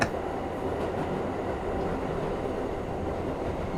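A New York City subway N train rolls along with a loud, steady rumble and constant rail noise throughout, with no voices.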